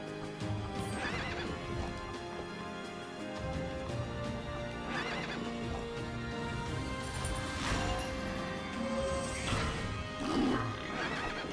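A horse whinnies repeatedly in the video game Child of Light, over a continuous layer of game music and hoof clatter, each neigh loud and drawn out.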